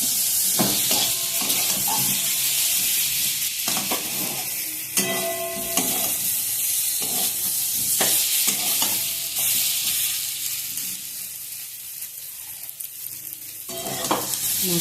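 Fried spice masala sizzles steadily in a pan while a spoon stirs and scrapes it in irregular strokes, close up and continuous, with no talking.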